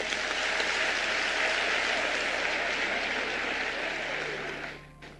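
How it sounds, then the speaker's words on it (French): Sustained, dense applause from a large crowd at a political party results announcement, loud and even before fading out near the end. "Applaudissons-les."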